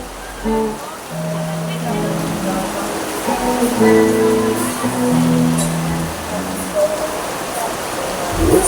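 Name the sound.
heavy rain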